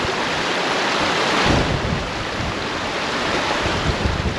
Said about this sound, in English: every now and again you'll get a gusty wind